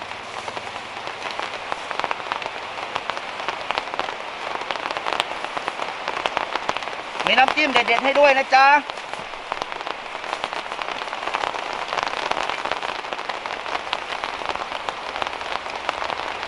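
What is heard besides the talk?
rain falling on a street food stall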